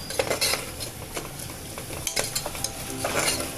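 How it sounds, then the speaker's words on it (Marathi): Spices and asafoetida sautéing in hot oil in a pan for tangy raw mango (kairi) dal, with a steady sizzle and a spoon scraping and stirring, plus occasional clinks against the pan. "सगळे मसाले बघा मस्त असे तेलामध्ये परतून घ्या."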